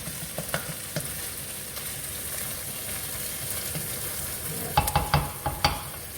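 Pav bhaji frying and being stirred in a pan as a fistful of coriander goes in, with a steady low sizzle and scraping stirs, then a few louder clattering stirs near the end.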